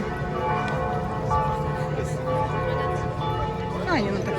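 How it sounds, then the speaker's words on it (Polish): Church bells ring in Strasbourg, a sustained peal of layered tones heard from a distance through steady outdoor city noise. "Kościół dzwoni, dzwony dzwonią."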